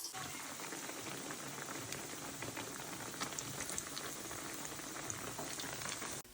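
Thanni kaalu vada deep-frying in hot oil, a dense continuous bubbling sizzle with fine crackles throughout, close and steady, cutting off abruptly at the end, with no talking.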